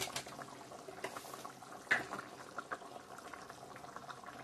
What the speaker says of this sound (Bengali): রান্নাটা একদম কমপ্লিট হয়ে গেছে, ভালো করে ফুটিয়ে নিছি।